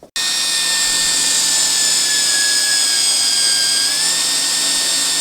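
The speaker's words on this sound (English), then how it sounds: "now we're just going to drill our spot here so we can have everything lined up" A power drill whines steadily up close after a quick start, its high motor pitch holding nearly constant and dipping slightly near the end.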